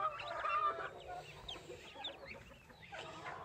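Muscovy ducklings from a newly hatched brood peep in a scattered series of faint, high chirps, close but quiet, with no talking.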